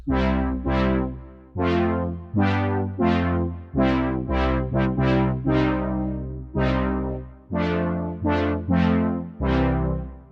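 Bright old-school synthesizer notes from the FL Studio FLEX plugin strike in a lively, uneven rhythm, each one decaying quickly, with deep bass tones underneath; loud and clear, no talking.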